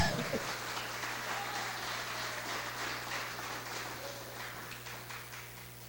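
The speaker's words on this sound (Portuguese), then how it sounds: "Que pode aplaudir o Senhor" A church congregation at a Brazilian worship service breaks into sustained, broad applause that fades gradually, with a steady low hum underneath throughout.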